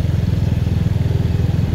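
A small motorcycle engine runs steadily underneath the rider, a loud, even low-pitched putter with a rapid firing rhythm throughout.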